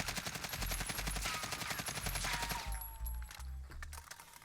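Rapid automatic AK47 rifle fire in a multiplayer shooter game, a loud, steady burst of closely spaced shots lasting several seconds before tapering into a few separate rounds.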